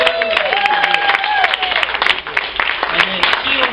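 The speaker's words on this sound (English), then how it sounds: "How about a round of applause for everybody you've seen so far?" A comedy club audience at the Comedy Parlor breaks into applause, a dense, steady patter of clapping that carries on under a host talking over it.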